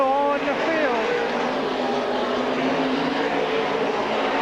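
Race cars battling for the lead late in a consolation event at Silver Spring Speedway, a steady engine roar with shifting tones as the cars run together, while an announcer talks over it.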